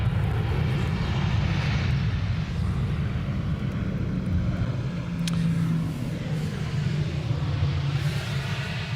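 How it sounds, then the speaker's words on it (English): Boeing 737 airliner arriving on runway 18R at Amsterdam Schiphol, a loud continuous engine roar with heavy low rumble, holding steady throughout. "Meanwhile, the 737 is arriving."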